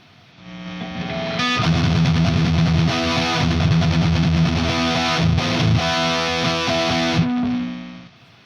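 A loud, heavily distorted electric guitar through a NuX Mighty Plug headphone amp plays a sustained, dense high-gain lead phrase for several seconds, then stops abruptly.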